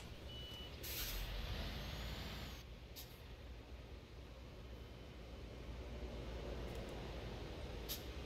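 Euro Truck Simulator 2 game audio of a truck pulling away, a steady low diesel engine rumble with sharp air-brake hisses and faint reversing beeps at intervals.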